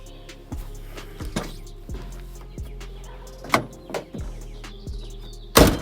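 An AMP power step motor on a 7.3 Powerstroke truck twitches as the driver's door is moved, giving a series of short, close whirring and clicking bursts at irregular intervals.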